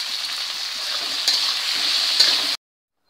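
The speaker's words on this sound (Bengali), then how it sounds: "এবারে এই সবজিগুলোকে সবগুলোকে একসাথে আমি লবণ আর হলুদ দিয়ে ভেজে নেবো সুন্দর করে।" Mixed vegetables frying with salt and turmeric, a bright continuous sizzle with a couple of soft stirring knocks, cutting off abruptly into silence.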